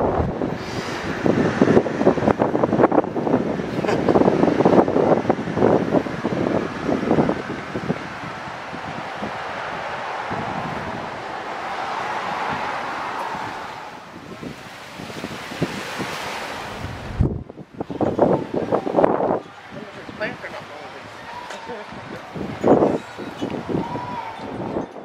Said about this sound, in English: even though it's cold and windy at the beach